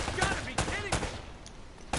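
Bursts of video game gunfire from Uncharted: Drake's Fortune, several loud sharp shots spaced across a couple of seconds with some overlapping rattle.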